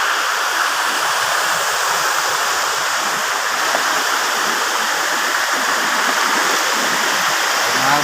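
Malingin Falls in Bohol pours in a steady, dense roar of rushing water that stays loud and unbroken throughout, with no voices over it.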